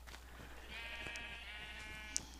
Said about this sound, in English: Dang, sheep are so loud.